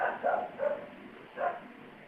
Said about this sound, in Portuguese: o barulho do cachorro tá muito forte aí ou nem tanto?